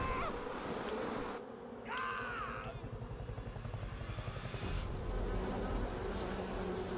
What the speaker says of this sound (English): Hornets. There's the fear.